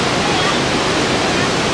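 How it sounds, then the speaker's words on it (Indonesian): Piso-Piso waterfall in North Sumatra, a very tall falls, gives a steady, loud, unbroken roar of rushing water that fills the whole moment. "Piso-Piso, Ya. air terjun yang terindah di Sumatera Utara."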